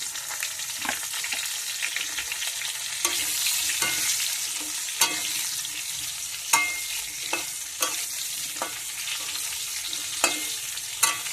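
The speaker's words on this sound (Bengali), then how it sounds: "এবারে এইতেই বেগুনগুলো ভেজে নেব" Brinjal slices coated with salt and turmeric fry in oil in the pan used for the hilsa, a steady crackling sizzle punctuated by regular sharp scrapes and taps from stirring, close and fairly loud.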